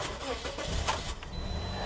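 A Toyota car in an insurance salvage yard cranks and catches, its engine sputtering into a rough mid-pitched run close by, with a person talking over it.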